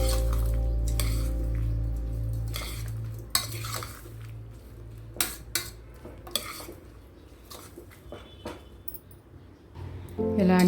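A metal spoon clinks and scrapes against a pan while amaranth curry ingredients are stirred and mixed, with irregular sharp taps and scraping strokes over a low hum.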